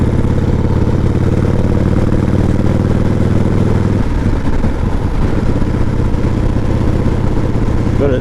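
A 1988 Harley-Davidson Heritage Softail with a sidecar rumbles steadily and close while riding along a backcountry road, its low engine note continuous and loud, shifting slightly in character partway through.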